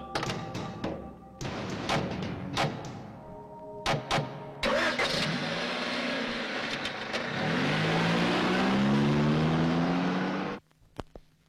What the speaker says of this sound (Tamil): வண்டியை பின்னாடி எடுத்துட்டு வா